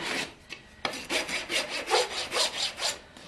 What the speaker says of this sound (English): do some fine touching, tuning up with the rasp, trying to kind of just level it up a little better